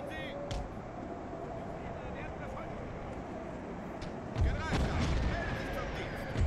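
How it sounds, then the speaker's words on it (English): Howitzer artillery booms in a World War One mod of the video game Napoleon: Total War, with distant thuds and a heavier blast near the end over a dense, rumbling battlefield din while someone talks. "I think my howitzers are already firing."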